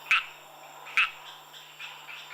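Frogs calling at night in a Madagascar jungle: sharp, bright croaking chirps repeated about once a second, with fainter calls answering in the background over a steady insect hum.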